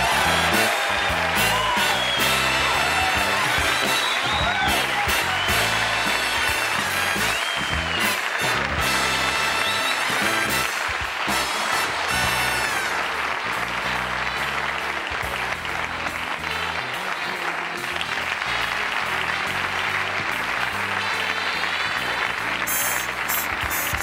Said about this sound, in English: I'm humbled by that applause.